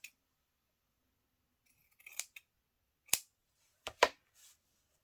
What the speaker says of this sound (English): I might cut this, make it smaller